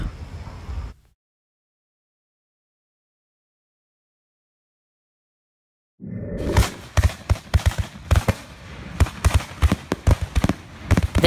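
Fireworks at a Peachtree City display burst in rapid, loud, close cracks and booms after a stretch of silence, the pops coming in irregular clustered volleys.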